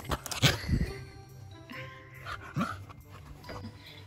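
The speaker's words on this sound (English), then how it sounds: "is this small little bark for attention" Small corgi barks for attention, a few short yips near the start and again mid-clip, close and fairly soft, with faint jingling and panting between.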